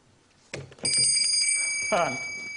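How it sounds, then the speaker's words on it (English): A bell rings on a TV quiz show with a bright, sustained metallic tone that lingers, accompanied by a few faint knocks and a short burst of voice. "ringing a bell?"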